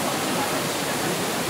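A waterfall at Cachoeira do 19 near Jequié, Bahia, gives off a steady, dense rushing roar that fills the whole moment without pause.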